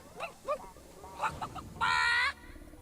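Chickens clucking in the Fable 3 video game, with several short squawks followed by a louder, sustained honking cackle near the end, close and clear.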